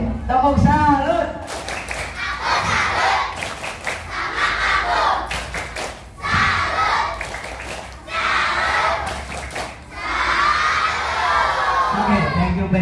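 Children in a school religious session clap together in repeated rhythmic bursts, loud and close, mixed with shouting and group chanting between the volleys.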